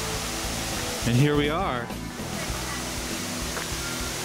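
A rainforest waterfall gives a steady, broadband rushing roar in the background while someone speaks briefly over it.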